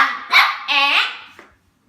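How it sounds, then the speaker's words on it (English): A puppy lets out two or three sharp, high yapping barks in quick succession, close and fairly loud, the second longer and wavering, then a small yip before falling quiet. "never, ever pick a puppy up when they're barking"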